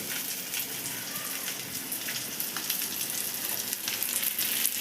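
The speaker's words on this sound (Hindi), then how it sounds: "तो ये मैं पनीर थोड़ा सा फ्राई कर रही हूँ" Paneer fries in a pan with a dense, continuous crackling sizzle that holds close and fairly even throughout, with no voices.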